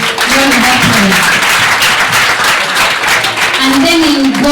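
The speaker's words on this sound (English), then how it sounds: "please let's give him a round of applause" Loud audience applause for a debate competition winner, dense continuous clapping, with voices talking over it throughout.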